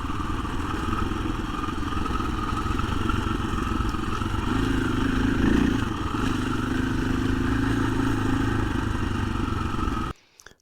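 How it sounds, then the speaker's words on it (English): 2024 KTM 500 EXC-F dirt bike engine on stock ECU mapping, blipped in low gears with a continuous close, loud four-stroke drone that swells briefly mid-way, then cuts off abruptly at the end. "So I've been consistently just getting this thing down at the really bottom of its gears and blipping around."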